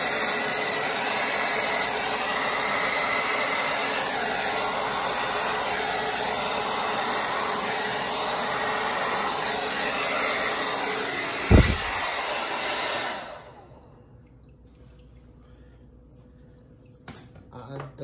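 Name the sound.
hair dryer blowing out acrylic paint for bloom technique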